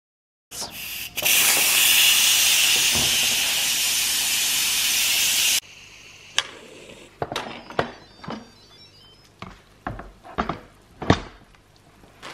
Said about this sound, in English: I'm going to let it sit and do the natural release for 5 minutes.